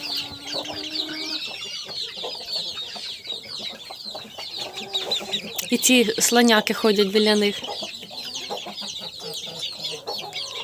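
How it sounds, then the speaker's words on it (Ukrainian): Bantam hens and a young rooster cluck and squawk close by as a hen fights the cockerel, with a burst of flapping and scuffling midway; a person talks over the birds. "Он, курка, диви, б'ється із молодим півником."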